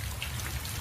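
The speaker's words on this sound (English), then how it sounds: "It's rain." Rain pours steadily as a radio drama sound effect, a dense even hiss of drops with a low rumble beneath, loud and continuous for a brief moment with no voices.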